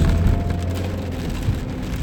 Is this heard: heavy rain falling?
yes